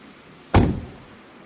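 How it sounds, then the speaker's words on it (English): The left sliding door of a Wuling Mini EV electric city bus prototype rolls and thuds shut in a single sharp, close impact that decays quickly into quiet cabin ambience, with no voices. "Left sliding door."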